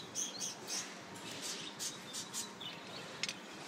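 Pet bird giving a series of short, high chirps and tweets while being petted and scratching itself, fairly faint and close, with no talking.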